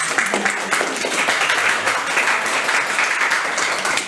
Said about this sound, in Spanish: Es un gran honor, un aplauso.